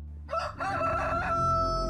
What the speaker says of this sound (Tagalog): Tilaok na mga manok mula sa hindi kalayuan ang gumising sa akin kinabukasan